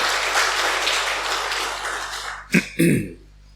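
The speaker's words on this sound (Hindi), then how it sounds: "ताली बजाइए अपने लिए।" An audience at an indoor program on healthy, happy living claps for itself in a steady, dense wash of applause that ends abruptly, followed by two short coughs or throat clears.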